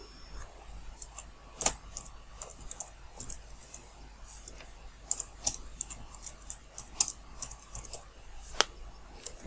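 Keystrokes on a computer keyboard entering a field description, irregular light clicks at moderate distance, faint and spread across the stretch with a few sharper taps, no talking.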